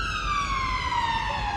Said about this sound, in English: The sirens are screaming,